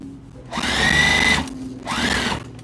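A sewing machine stitches a quarter-inch seam along a quilt, running in two steady motor bursts with a brief pause between, loud and close, with no voices.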